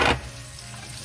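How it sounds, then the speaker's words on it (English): Previously cooked onions sizzle loudly as they hit a hot pan for reheating, a burst of frying that settles into a steady, quieter crackle. "I'll take the onions that I already cooked before and just put them back in the pan. Give them some heat to heat them back up."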